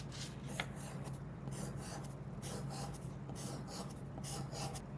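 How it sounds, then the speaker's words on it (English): Pencil pressed hard on paper, scratching out a series of circles in steady repeated rasping strokes, close and fairly quiet with no talking. "We're going to draw a series of circles using hard pressure."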